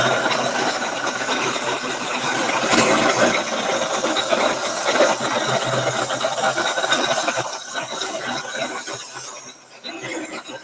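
A handheld dryer blows a steady, loud hiss and whirr close by over a freshly applied transfer on an antique-style sign, running continuously before dipping briefly near the end.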